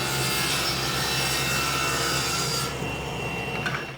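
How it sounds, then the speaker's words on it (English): Table saw cutting a 15-degree bevel through a 2x6 for a sawhorse, a loud continuous whining, rasping cut that runs steadily for most of the stretch, then eases off near the end as the blade clears the board. "now I'll just adjust my table saw blade and make the cuts"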